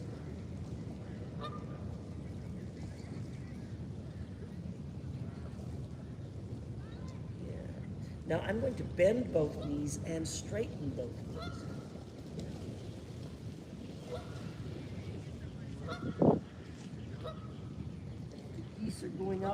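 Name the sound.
gaggle of geese honking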